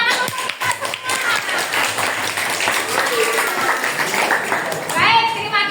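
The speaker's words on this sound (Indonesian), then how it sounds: "tepuk tangan untuk kita semua." Schoolchildren in a classroom applaud together, a dense patter of small hands clapping with children's voices chattering over and under it, swelling near the end.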